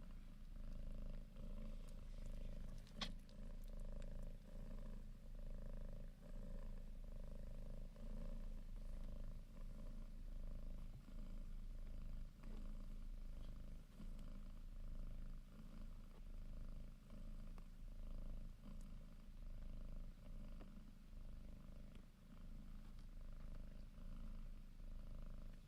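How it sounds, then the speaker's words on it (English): A kitten purrs close up, a steady low rumbling purr that runs on without a break for nearly half a minute. "I'm going to be quiet so you can hear how much she's purring."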